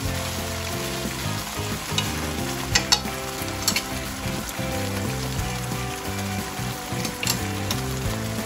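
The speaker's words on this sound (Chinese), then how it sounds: "我们做一个快速的搅拌、搅动，目的就是让所有的这个酱料呢加以混合" Sauce for three-cup chicken, with maltose among the ingredients, is stirred quickly in a hot wok, producing a loud continuous sizzle broken by rapid metallic scrapes and clatters of the spatula.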